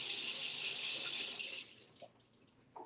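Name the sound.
rinsing vegetables under running tap water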